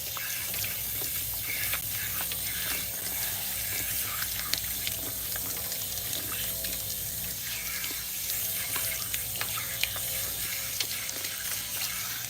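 Water from a faucet runs steadily as shampoo is rinsed from a client's hair at a salon sink. A continuous close splashing hiss comes with faint clinks and no talking.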